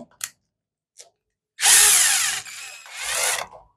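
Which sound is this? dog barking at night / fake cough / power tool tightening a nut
power tool tightening a nut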